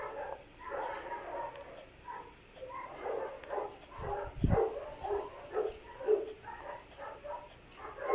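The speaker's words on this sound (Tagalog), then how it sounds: "Ang ingay ng aso." A dog barks repeatedly in the background of a domestic setting, medium-distant bursts over steady ambient noise with a louder close thump near the middle.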